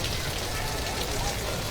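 Heavy rain in Vadodara pours down as a steady, dense hiss of drops drumming on surfaces, loud and unbroken throughout.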